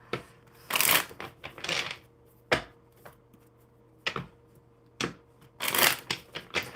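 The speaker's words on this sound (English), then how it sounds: "One more good shuffle." A deck of cards is shuffled nearby in repeated bursts of riffling and slapping, some long and dense, others short sharp snaps, separated by brief pauses with no talking.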